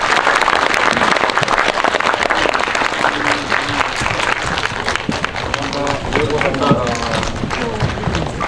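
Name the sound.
audience applause at the end of a film talk event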